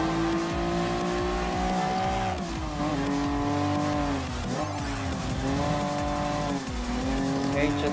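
A first-generation Honda NSX Type R racing in Gran Turismo Sport, its engine holding a loud sustained tone that dips and climbs through gear changes, with tire squeal and a voice talking over it.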